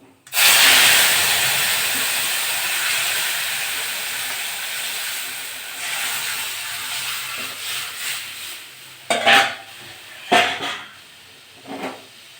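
Mango pieces dropped into hot mustard oil with fried mustard seeds for a mango chutney, setting off a loud sudden sizzle that settles into a steady hiss, with a few stirring scrapes and knocks near the end.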